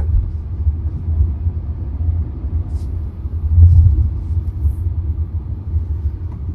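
Inside a moving 2024 Tata Nexon with a 1.2 litre petrol engine, a low, steady road and engine rumble fills the cabin, swelling briefly in the middle with no talk over it.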